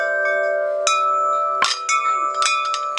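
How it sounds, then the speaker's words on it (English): Very large wind chimes at an auction preview ring in several struck clusters, long sustained metallic tones layering and decaying over one another, loud and close with no talking. "These are the biggest wind chimes I've ever seen."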